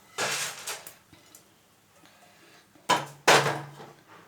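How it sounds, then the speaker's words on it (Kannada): Roasted cloves tipped from a pan onto a plate, heard as two bursts of clattering, scraping kitchenware near the start and two louder clinking bursts toward the end, with quieter handling between. "ಇದನ್ನು ಒಂದು ತಟ್ಟೆಗೆ ಹಾಕೊಂಬಿಡೋಣ."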